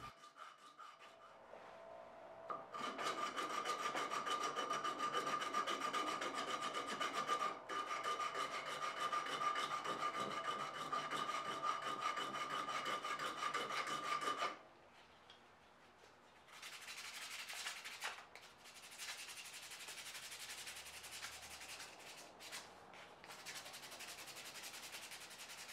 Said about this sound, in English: and then sand it to shape, giving it a little bit of radius